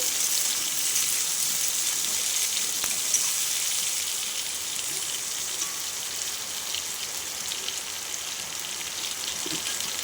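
Vegetables with green chillies fry in a pan for a shrimp and Malabar spinach curry, giving a steady, dense sizzle that runs unbroken at an even level throughout, close up and with no talking.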